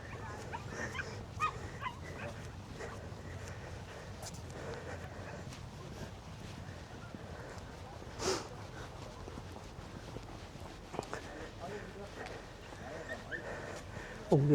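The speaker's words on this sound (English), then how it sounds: "The dogs have been playing on the beach." Dogs playing on a winter beach at Great Yarmouth give faint, scattered yips and whimpers over a steady outdoor wash of wind and surf.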